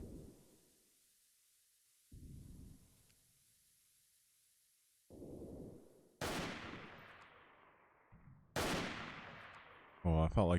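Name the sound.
gunfire in the video game Freeman: Guerrilla Warfare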